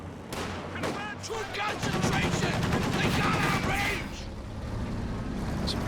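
Sustained machine gun suppression fire from a Company of Heroes 2 1v1 match, dense rattling bursts over battlefield noise with other gunfire and explosions, while a commentator talks over it.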